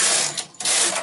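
A knitting machine carriage sliding across the needle bed with a loud, close mechanical whir, two long passes split by a brief pause, with no voices.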